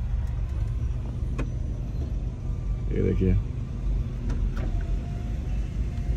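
Car traffic rumbles low and steady in a jam near the Deva Sharif fair in 2023, engines idling and a motor swelling briefly around the middle, with someone talking over it.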